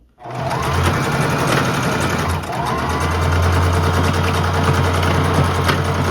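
A sewing machine runs steadily at high speed, stitching the waistband opening of thrifted bloomer shorts closed with elastic inside, a loud, close, continuous whirring drone with rapid needle clatter and no speech.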